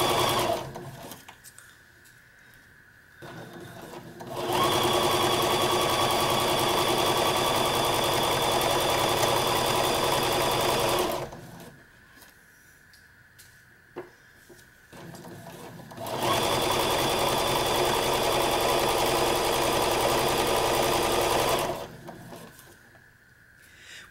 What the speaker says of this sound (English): I'm going to stitch all the way back over it, going backwards.